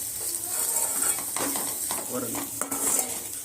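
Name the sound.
stirring potatoes and vegetables with chilli powder in pan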